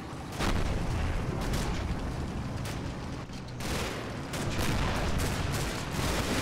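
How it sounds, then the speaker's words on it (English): Mortar impacts and small-arms fire from the Combat Mission war game: heavy booms and crackling volleys overlap in a dense, continuous battle din, loud and unbroken. "There's a bit of an exchange of fire going on, but mostly mortars."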